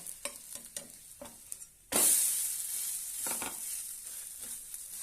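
Cucumber thalipith roasting in a pan, a few soft taps and scrapes, then a sudden loud burst of sizzling as oil hits the hot pan, settling into a steady close hiss with occasional spatula scrapes.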